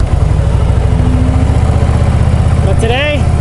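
A motorcycle engine runs steadily in winter with a loud, throbbing low rumble throughout, and a rising-falling whine briefly cuts in near the end.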